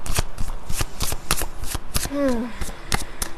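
Tarot reading cards being shuffled up close, a rapid series of crisp riffling bursts with a brief voice sound partway through.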